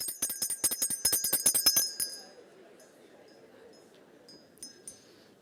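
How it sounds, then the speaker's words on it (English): A small hand bell rings rapidly about a dozen times over two seconds in a conference workshop room to mark sixty seconds up, bright and close, then fades into faint room murmur with a few light clinks. "I'm going to ring a bell when 60 seconds is up."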